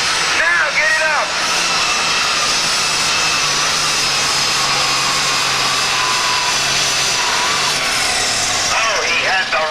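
Pulling tractor at a county fair tractor pull, its engine giving a constant loud high whining roar with a rumbling low end; a commentator talks over it in short bursts at the start and end.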